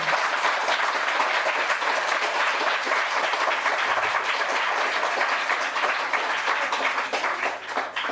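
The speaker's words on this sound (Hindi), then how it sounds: "तालियों की गड़गड़ाहट नीचे" Sustained applause from a small audience at a Hindi poetry gathering, a dense steady wash of clapping that runs loud and unbroken for the whole stretch, with no voices over it.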